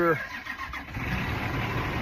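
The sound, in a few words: fire truck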